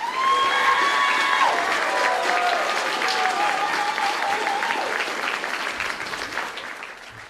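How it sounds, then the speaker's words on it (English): Audience at a high school graduation applauds and cheers, with loud clapping and a few whoops and shouts over the top, gradually tapering off toward the end. "let's give one more round of applause for AJ and Rachel."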